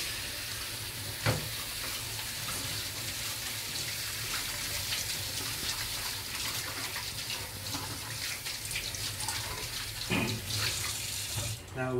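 Tap water runs steadily into a sink as dishes are rinsed by hand after scrubbing with dishwashing liquid, a constant close splashing hiss broken by a couple of sharper clatters.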